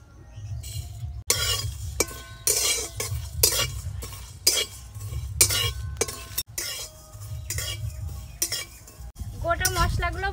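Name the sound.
whole spices dry-roasted and stirred in a wok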